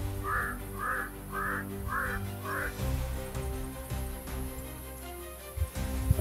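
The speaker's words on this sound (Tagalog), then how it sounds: "At tinatawag nila na ibon na kuwak." A crow, called a kuwak, caws five times in a steady evenly spaced series, fairly clear over a constant low hum and background noise.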